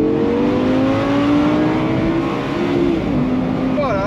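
An Audi R8 V10 Spyder with R-Tronic gearbox revs up steadily under acceleration, its rising engine tone loud and continuous from inside the car, with a brief shift near the end.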